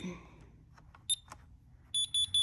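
An Ademco security alarm keypad gives short, sharp electronic beeps as the system is armed: a couple of single beeps, then a quick run of three, close and clear in a quiet room.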